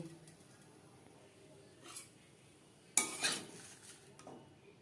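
A lid set down over a chitoi pitha pan: one sharp metallic clank with a short rattle, preceded by a fainter scrape, quiet and close.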